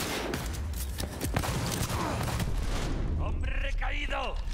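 Gunfire bursts in the shooter game Cyberpunk 2077, a dense run of loud repeated shots over the first few seconds, with a voice talking over the end.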